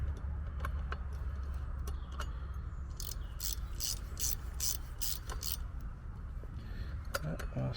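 A ratchet clicks in quick bursts while a bolt is screwed in, close and fairly faint, over a constant low rumble, with people talking now and then.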